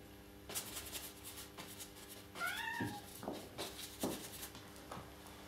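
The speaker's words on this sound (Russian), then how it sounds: "Кошки спарингуются." Cats scuffling and fighting indoors, with a few sharp yowling meows and brief thumps and rustles amid faint background noise, no talk.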